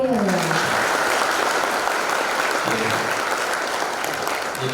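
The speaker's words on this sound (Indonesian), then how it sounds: "Berikan tepuk tangan yang meriah." An audience of students at a campus orientation event applauds loudly and continuously to welcome a speaker to the stage, a dense, sustained wash of clapping close by.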